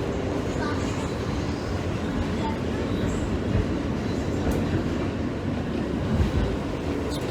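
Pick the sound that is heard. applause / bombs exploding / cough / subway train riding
subway train riding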